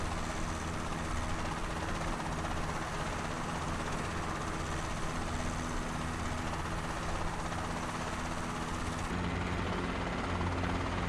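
Robinson R22 helicopter in Microsoft Flight Simulator 2024, settling onto an uneven platform; a steady, dense rotor and engine drone runs throughout, loud and unbroken, with a slight shift in tone near the end.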